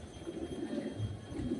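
Pigeons coo softly outdoors in a low, faint, repeating murmur throughout the short stretch, with no voices over it.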